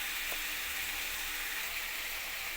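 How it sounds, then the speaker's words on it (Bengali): Potatoes fry in hot oil with turmeric and chili powder, a steady close-up hissing sizzle that holds level throughout with no talk. "আলুর সঙ্গে একসঙ্গে ভেজে নেবো"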